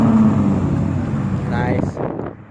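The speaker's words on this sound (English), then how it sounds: "you hear the idle? That sounds sick." A Dodge Challenger V6 with straight pipe exhaust idles with a deep, steady rumble, loud and close, tapering off near the end, with people talking over it.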